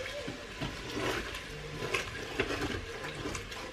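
Water is poured into a cooking pot to loosen the browned bottom, a splashing, sloshing rush of liquid with soft clinks, fairly close and continuous.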